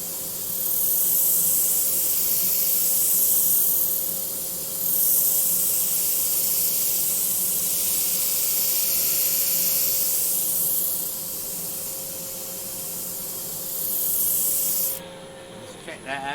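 A power sander runs on wood with a loud, continuous hissing rub and a steady motor hum, the pitch swelling and easing with the strokes before it shuts off near the end.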